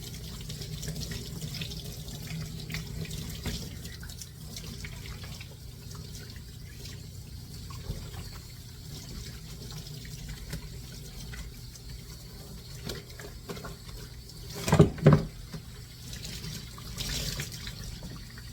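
Tap water runs steadily into a sink while a dog is rinsed during a grooming bath, a constant close splashing flow with brief louder bursts near the end and no talking.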